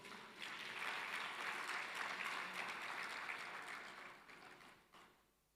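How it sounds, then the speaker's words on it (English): An audience at an education sector conference session applauds, a dense, steady patter of clapping that rises quickly, holds for several seconds, then tapers away. "A big round of applause for Prof."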